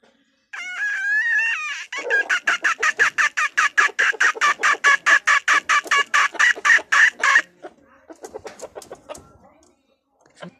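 Chickens, including a rooster crowing, make loud, close, rapid repeated clucks and squawks in a steady pulsing series that tapers into a few softer calls at the end.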